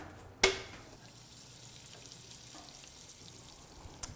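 A corn tortilla is laid in a hot pan with one sharp contact click, followed by a faint, quiet sizzle that hisses steadily in the background.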